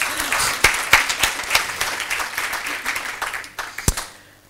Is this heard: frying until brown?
no